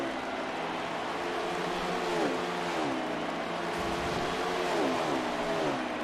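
A NASCAR stock car in the NASCAR Heat 5 racing game roars past the start-finish line at Bristol, a loud steady engine drone whose pitch glides up and down as the car sweeps by, with other engines blending in.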